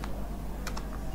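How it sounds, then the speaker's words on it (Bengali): A single crisp keypress on a computer keyboard, the Enter key struck once or twice in quick succession, close and quiet over a faint steady room hum, while entering data into an MS Access database. "এখানে এন্টার দিই। এন্টার দিয়ে লিখব"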